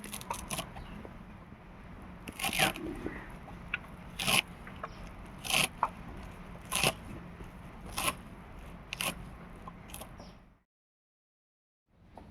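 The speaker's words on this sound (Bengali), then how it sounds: "এখানে অল্প ধনে পাতা নিয়েছি এটাও কেটে নেবো" Coriander leaves chopped with a knife on a board in a home kitchen, a string of sharp, crisp cuts at an uneven rhythm, close and fairly quiet, with nobody talking, then abrupt silence near the end.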